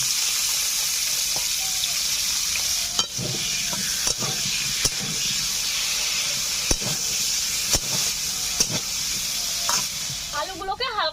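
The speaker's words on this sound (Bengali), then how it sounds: "এই মাছ ভাজা তেলে আমি আলুগুলোকে ভেজে নিচ্ছি।" Potatoes fry in oil already used for frying ritha fish for a village-style curry, a loud continuous sizzle and hiss with sharp stirring clicks and scrapes of the utensil against the pan.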